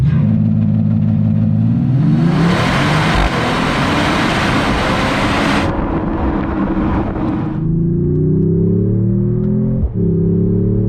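A 2025 Mercedes-Benz E53 AMG accelerates hard, its engine note enhanced through a Burmester surround sound system, rising as a loud, steady roar with audible gear shifts and a throaty drone heard from inside the cabin.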